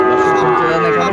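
A Sahiwal bull calf at a Dhaka cattle market gives one long, loud, close moo that holds steady throughout.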